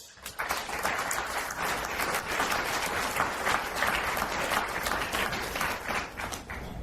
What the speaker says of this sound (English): For them, a big round of applause.